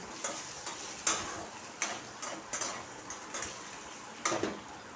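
Aloo paneer curry fries in a pan while a spoon stirs it, giving a soft steady sizzle broken by a handful of light clinks and scrapes of the spoon against the metal. Heard up close, with no talk.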